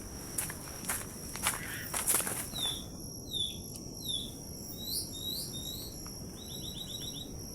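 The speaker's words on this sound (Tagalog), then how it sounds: "Yung ibon dito nakakatakot." Birds on a mountain in Davao give repeated short, high chirps and whistled calls, fairly faint and a little distant, over steady close footsteps and rustling as someone walks along.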